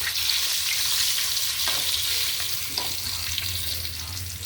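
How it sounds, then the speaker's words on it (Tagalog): Flat fish (isdang lapad) fry in a pan with a loud, continuous crackling sizzle, broken by a few brief scraping or clinking sounds near the middle. "Yan, napiprito pa tayo. Itong ating isdang lapad."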